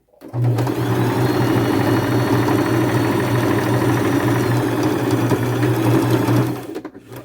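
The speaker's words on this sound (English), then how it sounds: "So I will just sew all the way down to the bottom." A sewing machine stitches a jeans seam in one continuous run, a close, steady whirring hum with rapid needle chatter for about six seconds before winding down.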